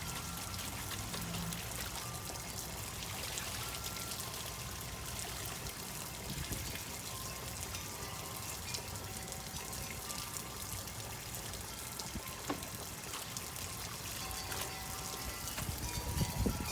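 Water from a full tank pours steadily into a bucket, a continuous, moderately loud splashing stream with a few faint drips, near and unbroken across the whole stretch.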